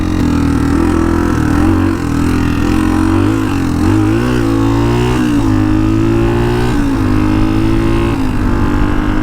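A 40-year-old Honda dual sport motorcycle revs hard and continuously on a road, its loud engine note climbing and dropping in pitch as the rider works through the gears and throttle.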